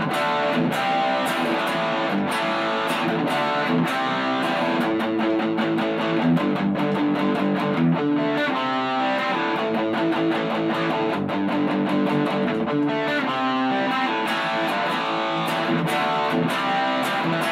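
An electric guitar plays busy, driving riffs through a Blackstar Fly 3 amp's distortion channel, loud and continuous with no talking.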